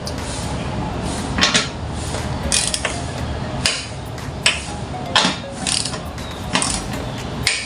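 A torque wrench tightens the fuel filter nut on a Honda Click 125 scooter to 10 Nm, giving close, loud metallic ratcheting clicks and clunks in irregular bursts.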